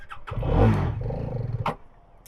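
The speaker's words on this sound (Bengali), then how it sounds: "ইঞ্জিনটা একটু ঘ্যাট ঘ্যাট ঘ্যাট ঘ্যাট করছে আবার স্টপ হয়ে গেল" A Hero Karizma XMR motorcycle engine sputters roughly, swells briefly, then dies out as it stalls, heard close with no talk.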